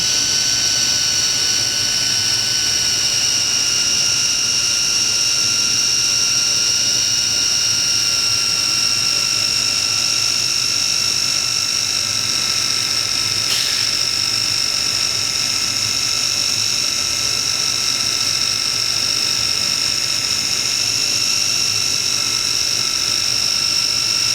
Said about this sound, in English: this right here is actually set up on a rotary, so it's going to spin no matter what